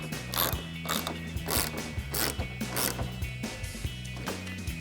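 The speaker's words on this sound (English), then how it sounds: "And then take a 10mm ratcheting wrench to tighten it down." 10mm ratcheting wrench tightening a rear spoiler bolt on a 2024-2026 Mustang: steady, rapid ratchet clicks in repeated strokes, close and clear, with faint sharper ticks at the top of each swing.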